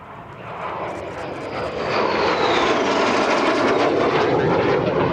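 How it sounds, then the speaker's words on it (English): A T-33 jet trainer makes its initial break for landing at EAA AirVenture's warbird area. The loud, close jet roar builds and then holds at full strength, with a whining tone sweeping across as it passes. "Right now, T-33 is coming through with their initial break for landing"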